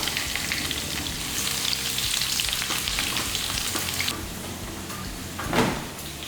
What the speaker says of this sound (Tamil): கருவேப்பிலையை அப்படியே நல்லா பிச்சுட்டு போட்டு தாளிச்சிக்கலாம்